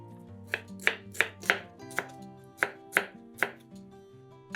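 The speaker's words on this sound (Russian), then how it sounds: "Верхнюю и нижнюю часть тоже нарезаем кубиками." Quick, regular knife chops cutting a pepper into cubes on a board, about ten crisp strikes in a steady rhythm, close up, over soft background music.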